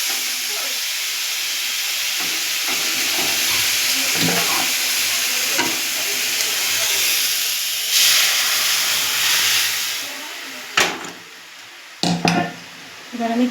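Dal cooking in a pan with boiled tomatoes, a continuous loud hiss and sizzle of steam, with a few sharp stirring scrapes and knocks toward the end, close by, no voices.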